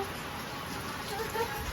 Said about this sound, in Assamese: বিহু বতৰত বৰষুণ পৰিছে